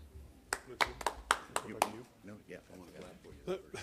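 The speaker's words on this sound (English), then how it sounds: "Appreciate all that rousing applause." Scattered applause at a press conference of Democratic leaders in Congress, a few sharp claps near the start fading into speech.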